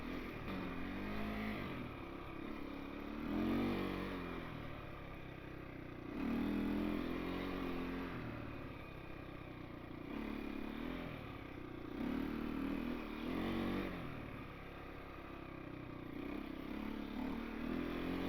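A KTM 250 EXC dirt bike rides through soft sand, its engine droning steadily and swelling into several throttle surges and revs, with faint clattering and scraping underneath.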